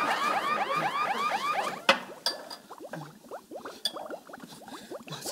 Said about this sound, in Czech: To je alarm. Alarm!